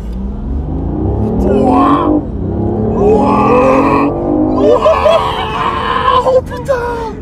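Vehicle engine revving hard and accelerating at close range, loud and sustained with rising pitch sweeps, while excited voices shout and exclaim over it.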